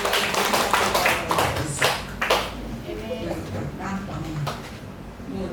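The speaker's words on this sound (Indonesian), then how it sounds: "Ayo, tepuk tangan." A crowd applauds, a burst of hand claps sustained for several seconds alongside people talking.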